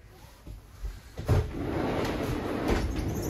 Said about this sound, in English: triple pane sliding door